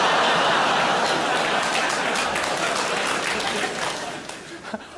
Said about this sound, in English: the fact a child has applauded that very loudly